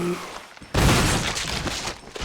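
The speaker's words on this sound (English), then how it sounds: "Oh, this is why I love shotguns!" A shotgun blast in the Resident Evil 1 remake booms suddenly and loudly after a quieter lead-in, its heavy report trailing into a rumbling decay with more impact noise.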